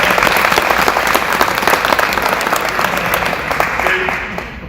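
Sustained applause from an audience at a CTCS football event as a coach, the defensive coordinator, is introduced, a dense steady clapping that fills the whole stretch and tapers off slightly at the end.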